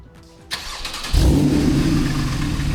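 A quiet idle is broken by a starter whir, then a Porsche 911 (991) engine with a valved Akrapovič exhaust catches and settles into a loud, rumbling idle.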